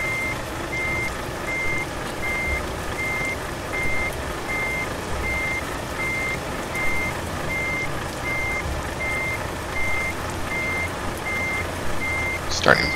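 A truck in Euro Truck Simulator 2 backs straight into an alley dock while a steady reversing beep repeats about once a second above a constant low engine rumble.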